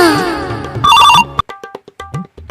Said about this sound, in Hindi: ये फोन उठाइए ना